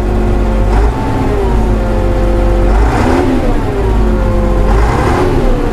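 Vervaet six-cylinder engine revved up in a few bursts, a deep loud rumble rising and falling in pitch three times over a steady idle, close by, with no voices.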